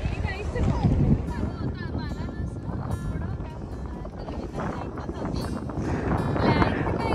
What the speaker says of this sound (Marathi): एवढा वारा आहे